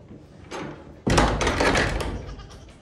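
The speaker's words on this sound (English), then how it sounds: "I gotta close these doors." Barn doors on a goat farm are pulled shut: a soft shuffle, then a loud sudden sliding clatter and rumble that tails off over about two seconds, close to the listener, with no talking.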